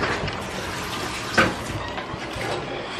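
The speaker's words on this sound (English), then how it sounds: "I am about to take a shower and go to work." Water runs steadily from a shower in a home bathroom, a continuous hiss with a brief splash partway through, close and alone.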